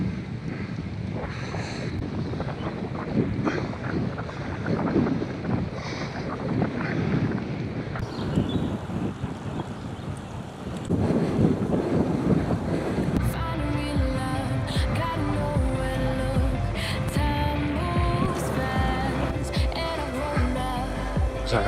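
Wind buffets the microphone on a winter bike ride through woods in North Lincolnshire, a loud continuous roaring rumble that shifts in strength partway through.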